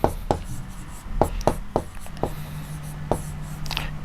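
Pen or chalk writing out a numeral answer in a Class 6 integers maths lesson, a series of short sharp strokes and taps spread irregularly across a few seconds with a steady low hum beneath and no talk.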